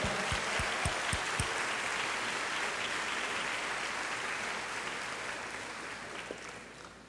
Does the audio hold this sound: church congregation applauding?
yes